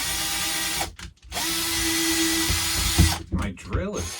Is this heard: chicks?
no